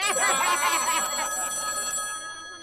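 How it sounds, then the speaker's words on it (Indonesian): A telephone rings on a comedy TV show set, bright repeated electronic trills sounding loudly for about two seconds before cutting off, with faint crowd noise behind. "Ada telepon."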